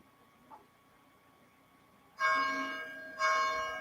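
A church bell rings out twice, about a second apart, each stroke ringing on after a quiet lead-in.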